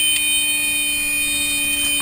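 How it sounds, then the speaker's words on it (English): Airplane cockpit alarm, a steady high electronic tone with layered harmonics, sounding loud and continuous for about two seconds with no talk over it. "the alarm sounds"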